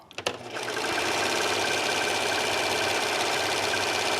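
Serger overlocking machine stitching and trimming a fabric seam, a few quick starting clicks followed by a fast steady mechanical whir that runs loud and close for the rest of the clip.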